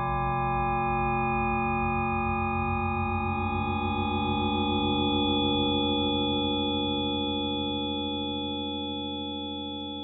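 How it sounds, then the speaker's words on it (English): Synthesized sine wave tones from a SuperCollider pattern sound together as a steady, loud chord of pure pitches, some layers dropping out partway before the whole sound gently fades near the end. "Suppose we want these sine waves to align with a harmonic series."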